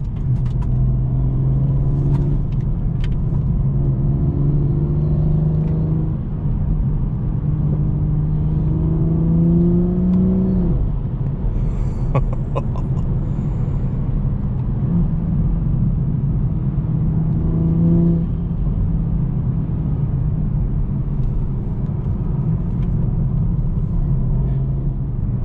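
A tuned BMW 440i engine drives through mountain roads near Deep Creek, Maryland, droning loudly and steadily with repeated rising pitch sweeps as it accelerates through the gears, a constant close in-cabin rumble throughout.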